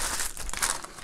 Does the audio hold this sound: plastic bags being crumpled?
yes